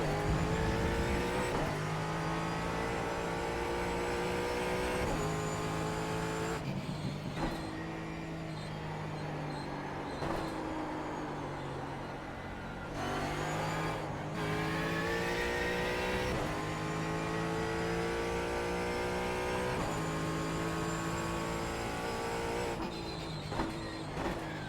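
The Ford Mustang GT4 in iRacing at Sonoma roars through repeated gear changes, its engine note climbing and dropping in steady cycles, loud and continuous, with brief lifts and downshifts for corners.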